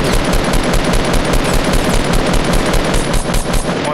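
Rapid automatic gunfire from a battle royale video game rattles loud and continuous, a dense unbroken stream of shots.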